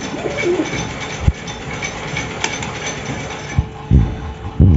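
Pigeons coo and stir close by, with soft rustling and a few sharp mechanical clicks and taps around them, and no one speaking.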